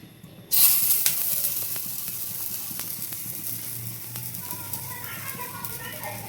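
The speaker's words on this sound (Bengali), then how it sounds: "বড়া ভাজার জন্য সব রেডি, হলুদ মরিচ সব কিছু মিশিয়ে নিয়েছি।" Spiced fritters (bora) made with turmeric, chilli and onion drop into hot oil in a wok, setting off a sudden loud sizzle that settles into a steady close-up crackle.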